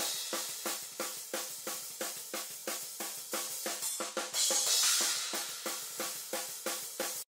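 Metal drum kit heard through overhead microphones with a subtle Reaper stock distortion plugin adding saturation: a fast, regular pattern of sharp hits with washy cymbals, a cymbal crash swelling midway, played alone and fairly quiet.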